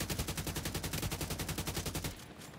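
Rapid automatic gunfire from shooting in The Division 2, a dense, evenly spaced burst of around twenty shots that runs steadily for about two seconds and then cuts off abruptly, leaving a quiet tail.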